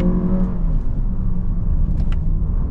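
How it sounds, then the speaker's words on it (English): Steady engine drone with a low rumble as a 2024 Lexus RX 500h F Sport Performance accelerates, an artificial engine note played through the cabin layered over road noise, loud and continuous. "it's a bit annoying when they put these artificial sounds in vehicles"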